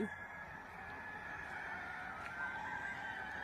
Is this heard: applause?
no